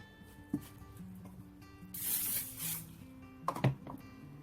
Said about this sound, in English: Don't spray hairspray in your eye.